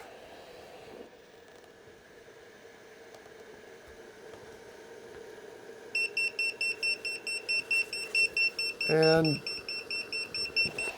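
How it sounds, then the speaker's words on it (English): MicroClimate Air3 powered respirator with its air outlet covered sounds its low flow alarm: a loud, steady train of rapid high electronic beeps that runs without pause until the end, with a short voice over the tone. "there's your low flow alarm"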